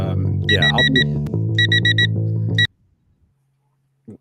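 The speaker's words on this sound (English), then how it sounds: "That was my early alarm." An early-morning alarm clock beeps loudly in rapid repeated bursts of four, close to the microphone, then cuts off abruptly into near silence.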